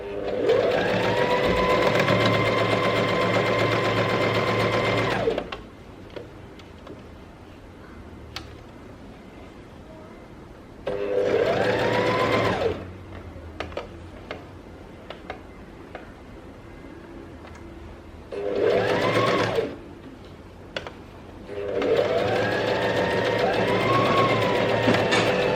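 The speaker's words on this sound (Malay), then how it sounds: "Kita jahit cantum keliling ni. Okay, start jahit." A sewing machine runs in long steady bursts, stitching around a dress seam, its fast rhythmic clatter loud and close, broken by quiet pauses between runs.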